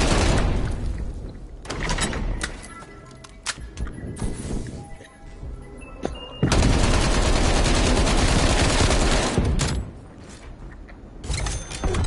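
A high fire-rate gun in a zombie shooter game, loud sustained bursts of rapid automatic fire broken by mechanical clicks and short pauses, with no talk.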